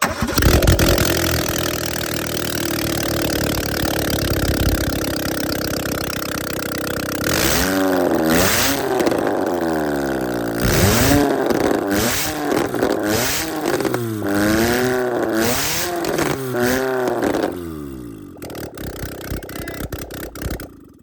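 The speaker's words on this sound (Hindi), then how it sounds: "अब गाड़ी के इंजन को एक प्रॉपर तरीके से स्टार्ट करके देख सकते हैं आप आवाज" A car engine, just repaired after being opened up three times, cranks and catches, then idles roughly and revs in repeated rising bursts before cutting off, loud and close with no talking.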